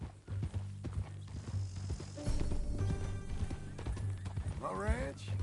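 Horse hooves clip-clop in a steady rhythm in the video game Red Dead Redemption 2, with a neigh near the end, under men's dialogue.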